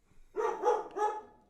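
A dog gives three quick, loud, close barks in a short burst, with no talk over them.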